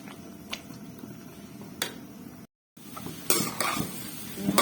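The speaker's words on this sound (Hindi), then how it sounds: "हमारा हलवा जो है वो भुना जा रहा है" Milk halwa roasting in ghee in a pan while being stirred: a soft continuous sizzle with scattered scraping strokes of the spoon against the pan, close by, with a brief gap partway through.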